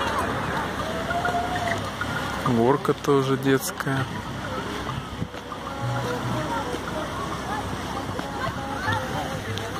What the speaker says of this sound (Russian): С таким вот водопадиком.